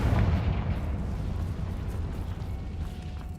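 A Confringo fire spell exploding in Hogwarts Legacy, a deep rumbling boom that opens loud and rolls on as a long low roar gradually fading, with no speech over it.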